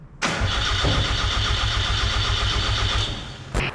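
A Mazda RX-7 rotary engine in a pit truck cranks steadily for about three seconds without catching, a loud, even starter whir that then cuts off, with a brief click at the end.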